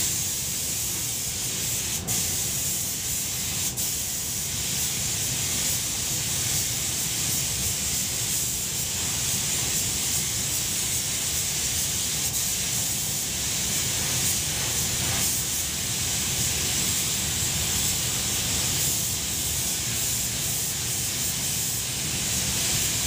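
A spray paint can lays down a first coat with a continuous airy hiss that runs steadily for over twenty seconds, broken only by faint clicks and small shifts in intensity, with no voices.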